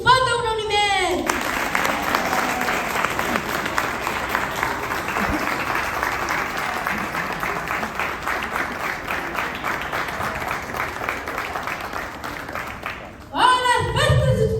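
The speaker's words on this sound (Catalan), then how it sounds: "Un fort aplaudiment!" Sustained audience applause after a sixth-grade school Pastorets nativity play, a dense steady wash of many hands clapping for over ten seconds before it fades, with voices briefly at the start and end.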